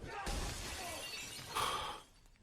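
Glass shatters in the action film John Wick Chapter 3, a sharp crash into a spray of breaking shards that tinkle and fade, with a second burst of shattering near the end, under faint background noise.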